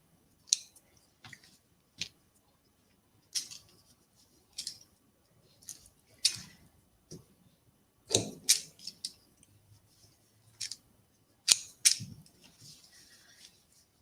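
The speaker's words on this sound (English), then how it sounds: "I will use the pinking shears the seams." Pinking shears snip through fabric seams on a handmade doll in a series of irregular, crisp crunching cuts with pauses between, close and fairly quiet.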